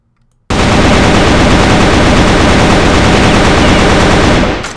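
Loud, sustained automatic gunfire in the video game Crossfire, an unbroken rapid stream of shots bursting in suddenly after a moment of silence and running continuously at full volume before cutting off.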